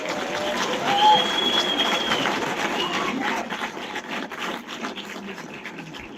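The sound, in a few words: audience applause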